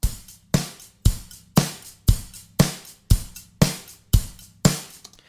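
A punchy drum pattern repeats steadily, about ten hard hits alternating kick and snare, dense and compressed with short decaying tails.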